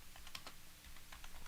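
Quiet, irregular tapping of keys on a computer keyboard, soft clicks in an uneven rhythm over a low background hiss, with no talking.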